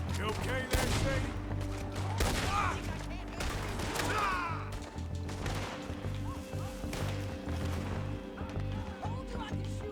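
Gunshots ring out in the Western video game Red Dead Redemption 2, several sharp cracks scattered over a continuous game soundscape with music and occasional speech.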